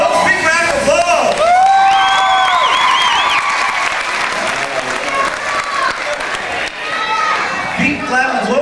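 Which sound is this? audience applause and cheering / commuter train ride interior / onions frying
audience applause and cheering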